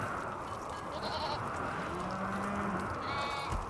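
Sheep bleat in the colony-building video game RimWorld, with two short bleats spaced a couple of seconds apart over a steady background of in-game ambience.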